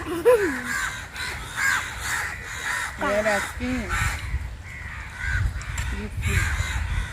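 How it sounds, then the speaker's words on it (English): Several crows caw repeatedly around a tree-lined campsite near Udupi, with harsh calls coming in short bursts, fairly close, while people talk over them. "so much crows, yeah, look at so much noise they are making"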